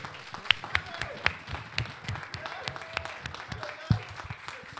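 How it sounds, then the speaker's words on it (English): A church congregation claps in a round of applause at a Mother's Day service, steady scattered clapping at moderate distance with voices faintly underneath. "Let's give her a round of applause for our spiritual mother."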